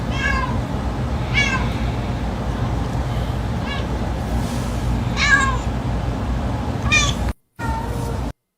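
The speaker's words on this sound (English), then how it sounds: "My cat has said now she's done eating every time." A cat meows repeatedly after finishing its food, several short rising calls spaced a second or so apart over a steady low background hum.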